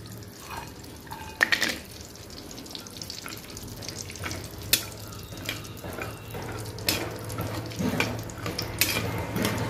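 Cashews and almonds frying in ghee, a continuous soft sizzle with occasional stirring clicks and scrapes at moderate volume, no talking.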